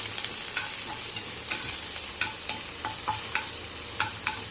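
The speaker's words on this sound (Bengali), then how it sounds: "হালকা ভেজে নেব। আদা রসুনটা ওখানে দিয়ে দিলাম পেস্টটা।" Ginger-garlic paste is lightly fried in a pan with flattened rice, a steady sizzle punctuated by regular sharp spatula scrapes and taps, close and without voices.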